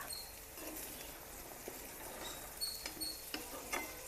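Fried pieces stirred into onion paste in a pan, heard as a quiet, steady sizzle with soft scraping and a few faint clicks of the spoon against the pan.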